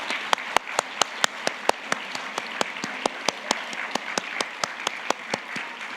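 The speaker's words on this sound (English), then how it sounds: "I really want all of you to give them a round of applause" Steady rhythmic hand clapping from an audience at a Diwali 2022 event, sharp regular claps about four per second over a soft bed of broader applause, fairly close and loud.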